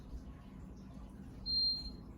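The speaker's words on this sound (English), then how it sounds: "There's our beep." A single short, high electronic beep from the diagnostic button of an LG fridge-freezer combo that is not cooling, clear but brief against a faint background hum, with no talk.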